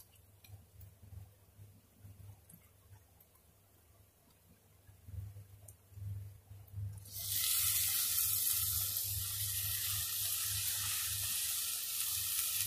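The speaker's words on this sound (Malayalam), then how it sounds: "ഇനിയും ഈ സവാളയും ടൊമാറ്റോയും കൂടി നല്ലപോലെ ഇതിനകത്ത് കിടന്ന് വഴന്ന് വരണം." Chopped tomato and onion sauté in a pan for butter paneer, a steady broadband sizzle that starts abruptly partway through and then holds loud and continuous, over a low hum.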